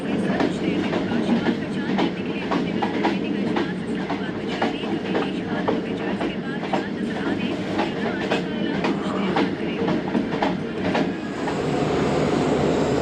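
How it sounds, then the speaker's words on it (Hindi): Musapak Express passenger train arriving at Raiwind Junction, a loud continuous rumble of the carriages with rhythmic clickety-clack wheel beats, heard from on board. "ट्रेन पहुंची है रायवेंड जंक्शन"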